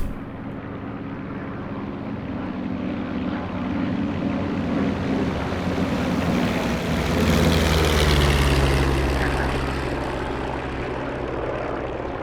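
A P-47 propeller fighter in the DCS World flight game starts its takeoff roll. The engine gives a steady, loud drone that swells toward the middle and holds a continuous roar, with no voices.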